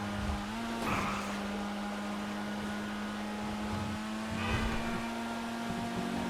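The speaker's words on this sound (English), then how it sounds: "Let's see what this car can do. Now that it's completely maxed out, how fast will it go?" In the GTA Online video game, a Ford Sierra Cosworth RS500 car is maxed out and drives at top speed, with a steady high-pitched engine drone and tire and wind noise. It briefly shifts pitch and swells near the start and again toward the end.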